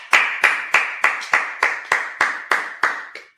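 Congregation at a Sabbath service clapping in unison, about eleven crisp, evenly spaced claps in a steady beat, close and loud, trailing off at the end with no talk.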